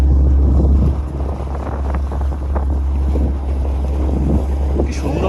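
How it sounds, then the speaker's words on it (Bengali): A speedboat pounds through sea waves off Digha, its engine drone and water slap loud and close under heavy wind buffeting, with brief voices in the background. "স্পিড বোট, এই তো ধরেছি।"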